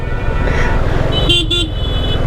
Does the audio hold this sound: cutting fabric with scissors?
no